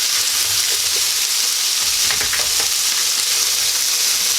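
Diced potatoes for home fries sizzle steadily in a hot pan, with a continuous bright hiss that flares into a louder crackle as they are stirred, and no voices are heard.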